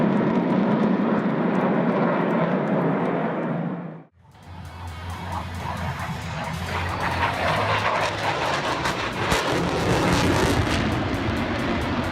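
An F-22 Raptor fighter jet roars past. A loud, dense engine rush cuts out briefly, then returns as a broad, rumbling jet roar that builds and stays strong.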